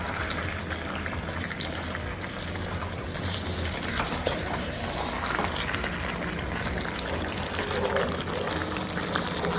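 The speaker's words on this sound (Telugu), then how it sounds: "ఒక 2 నిమిషాలు వేపేసుకొని వాటర్ వేసేసుకుందాం." Water is poured into a pan of chicken curry after frying, a steady rushing, bubbling hiss that carries on for the whole stretch with no talk over it.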